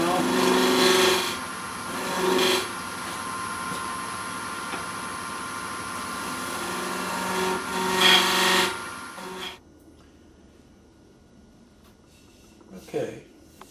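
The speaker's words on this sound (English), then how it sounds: "Shifting more to a shearing cut now." A hand tool takes a shearing cut on wood, giving a loud, steady scraping rasp in long strokes for about nine seconds before it stops, then a faint knock.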